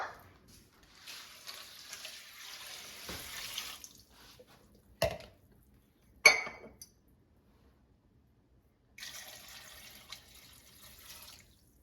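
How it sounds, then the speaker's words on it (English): Water pours and splashes over dry pasta in a bowl for microwave cooking, in two bursts with a few sharp clinks in between. It is close and moderately loud, and no one speaks. "And now add enough water to cover the pasta."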